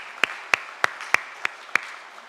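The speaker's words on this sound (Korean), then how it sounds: "큰 박수로 맞이해 주시기 바랍니다." Applause at a Korean church Sunday morning service, welcoming a congregation member: six sharp, evenly spaced claps ring out over a steady wash of crowd clapping, moderately loud and with no voices.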